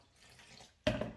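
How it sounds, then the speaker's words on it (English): A short burst of water splashing and trickling into a bowl of flour for bread dough, loud and close after a near-silent moment, with no talking. "Pour your water in, a bit at a time."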